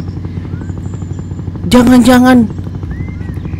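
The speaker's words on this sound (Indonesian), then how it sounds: "Guys, kok ada helikopter" A helicopter's rotor drones steadily with a pulsing chop throughout, fairly loud and constant, while a voice briefly speaks over it in the middle.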